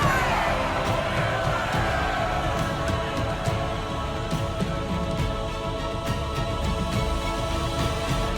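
Crowd cheering and roaring in the video game Dragon Age Inquisition, a dense, steady wall of many voices that stays loud throughout with no pauses.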